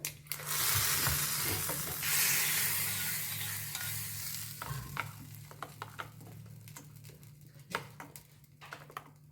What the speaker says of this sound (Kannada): ಒಗ್ಗರಣೆ ಕೊಡ್ತಾ ಇದ್ದೀನಿ ಸಾಸಿವೆ ಎಣ್ಣೆ ಕರಿಬೇವು ಒಂದು ಒಣಮೆಣಸು ಹಾಕಿರೋದು